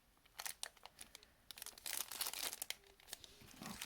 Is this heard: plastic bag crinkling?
yes